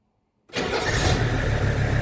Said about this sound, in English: let's go in here and fire up the car